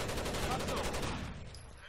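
Rainbow Six Vegas 2 gunfire: a rapid, loud rattle of automatic shots that cuts off and fades into quieter echoing noise.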